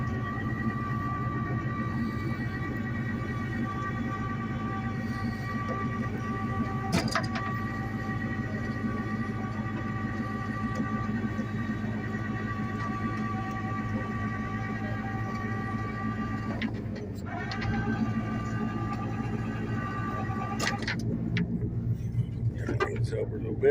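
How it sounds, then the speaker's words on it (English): A truck engine runs at a steady low rumble while the truck is pulled slowly under a 1964 four-door Ford Galaxie whose rear end is unbolted, with a couple of brief revs and someone talking over it. "What I'm actually doing is pulling the truck under the car"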